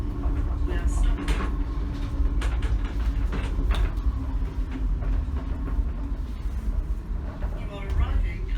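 Birmingham Airport Sky Rail people-mover train braking to a halt, with steady rumble, creaks and mechanical clunks close by, under a recorded voice announcement.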